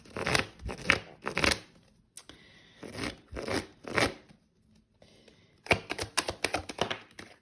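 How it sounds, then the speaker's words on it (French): Tarot cards are shuffled and drawn in a love-reading session, with rapid crisp riffling and flicking bursts separated by brief pauses, close and fairly loud, with no voice. "Je vais aller tirer une carte dessus."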